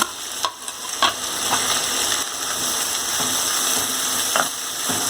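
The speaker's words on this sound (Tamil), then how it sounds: "இப்போ நான் பே லீஃபு, 2 கிராம்பு, ஒரு சின்ன பட்டை இதெல்லாம் போட்டு தாளிக்கிறேன்" Steady sizzling of bay leaf, cloves and cinnamon frying in hot oil, with occasional sharp scrapes and clicks from stirring throughout.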